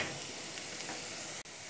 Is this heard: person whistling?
no